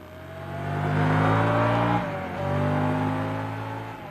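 A Ducati motorcycle engine revs loudly and steadily, a deep throbbing drone that dips briefly then climbs again, heard up close with no talking.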